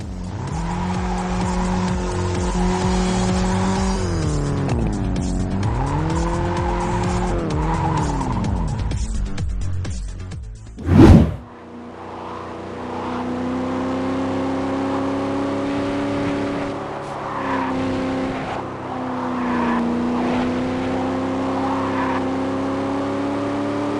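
Racing cars in a mobile racing game featuring real models such as Mercedes and Mustangs: engines rev and shift pitch, a sharp skid or impact bursts out midway, then steady engine drone resumes.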